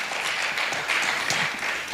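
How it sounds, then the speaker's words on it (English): Audience applauding a speaker at a startup summit at a university in Nairobi, a dense, steady patter of many hands clapping at moderate distance throughout. "An amazing, fabulous round of applause for Sean."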